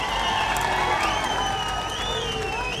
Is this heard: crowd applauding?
yes